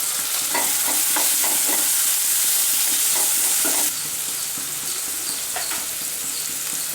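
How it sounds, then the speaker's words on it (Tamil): Onions and tomatoes sautéing in a pan for an omelette gravy, a steady bright sizzle throughout with repeated short scraping stirs of a spoon, close and alone. "வெங்காயம் தக்காளி நல்லா வதங்கட்டும்."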